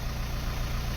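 A VW Caddy engine idles just after being repaired, a low, steady and fairly quiet rumble with an even pulsing throb for a brief moment, no voices.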